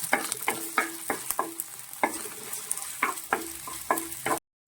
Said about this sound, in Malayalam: വെളുത്തുള്ളി ഇടാം പച്ചമുളകും കൂടി ചേർക്കുവാണ് ഇനി ഇത് നന്നായിട്ടൊന്ന് മൂപ്പിച്ചെടുക്കണം